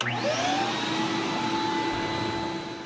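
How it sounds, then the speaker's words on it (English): A vacuum cleaner sucks up debris from drilling holes while a Humminbird Ethernet network is being installed, giving a loud, steady whining roar that holds for about three seconds. It tails off slightly at the end. "Then just vacuum up that little bit of that mess we made."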